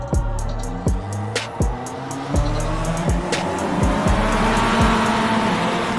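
Several MX-5 race cars in iRacing accelerate off the grid at Charlotte, engines droning loud and close with repeated rising revs and gear-change dips, a steady pack roar over the six seconds.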